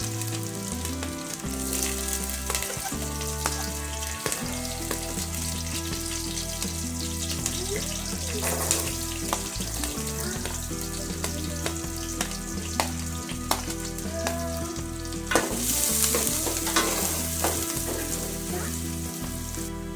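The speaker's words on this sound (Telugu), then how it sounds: "అందులో ఆయిల్ వేసుకొని మనం తరుగు పెట్టుకున్న అల్లం, వెల్లుల్లి, పచ్చిమిర్చి, క్యారెట్ ఇవన్నీ వేసుకొని బాగా ఫ్రై చేసుకుందాము" Ginger, garlic, green chilli and carrot fry in hot oil in a kadai, a close, continuous crackling sizzle with intermittent scraping and stirring clatter.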